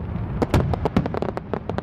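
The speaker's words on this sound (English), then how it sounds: "watching fireworks on July 4th" Fireworks burst again and again in a rapid, crackling barrage of sharp pops and deeper booms, loud and dense, with no voices.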